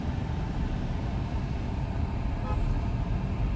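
Dense road traffic rumbles and roars steadily at close range, with a faint car horn toot briefly cutting through the noise.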